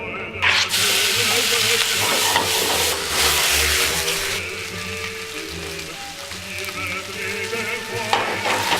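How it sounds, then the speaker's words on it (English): Chopped food hits a hot frying pan with a loud, steady sizzle that runs continuously, with occasional stirring clatter over the frying noise. "All chopped up, into the pan we go."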